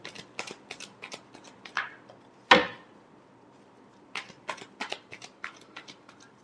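Tarot cards being shuffled by hand: bursts of quick papery riffles and flicks, close and fairly quiet, with one sharper snap of the deck mid-way, then more scattered shuffling.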